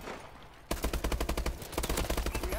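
Rapid automatic gunfire in a first-person shooter video game, a loud burst of many close, evenly spaced shots that begins abruptly after a quiet moment and runs to the end.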